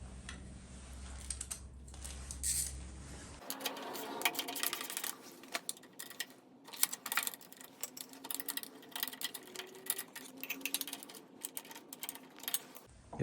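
Small 5/16 bolts are worked loose from the ignition module on a Harley-Davidson Twin Cam 88, giving faint, close, irregular ticking and clicking tool sounds in a quiet space with no talk.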